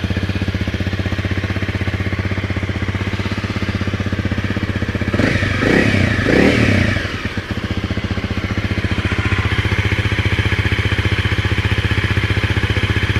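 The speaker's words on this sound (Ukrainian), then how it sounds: "Мотоцикл робить не дуже громко" A 2017 Honda CRF250 Rally enduro motorcycle engine idles steadily nearby with an even, throbbing rumble, briefly swelling into a short rev and clatter midway before settling back to idle.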